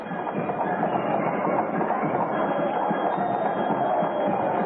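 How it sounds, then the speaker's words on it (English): A royal carriage ride to the palace is rendered as a steady, loud rolling rumble with rhythmic rattling and no breaks, sounding like wheels running continuously beneath the riders. "The royal carriage was waiting, and we got into it, just the two of us, for the ride to the palace."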